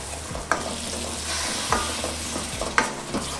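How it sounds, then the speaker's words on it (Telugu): Ground tomato paste fries with spices and onions in oil for a methi malai matar curry, hissing steadily while a spoon scrapes the pan in a few sharp, close strokes. "టొమాటోస్ యొక్క పచ్చిదనం పోయి నూనె పైకి తేలేంత వరకు దీన్ని బాగా వేపుకోవాలి"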